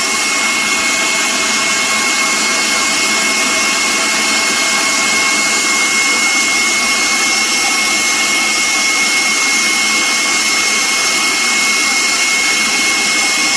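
An electric mixer runs at full speed whipping meringue for an Eton mess cheesecake, a steady loud whirring drone that holds without a break throughout and is heard alone.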